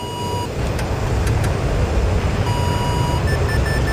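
Radar tracking warning beeps in a fighter jet cockpit in the DCS World flight simulator pulse at a steady rate over a loud, continuous engine-like rumble.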